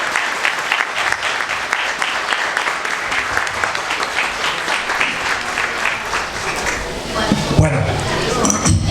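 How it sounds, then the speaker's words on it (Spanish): An audience applauds steadily to welcome a lecturer at a conference, a dense, sustained clatter of many hands clapping throughout, fading slightly near the end. "Démosle un gran aplauso y bienvenida"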